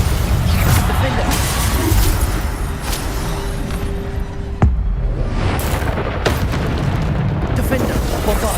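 Bombarda spell blasts in the Hogwarts Legacy video game, a run of loud booming bursts with a sharp crack near the middle, packed tightly amid constant combat noise and spell effects.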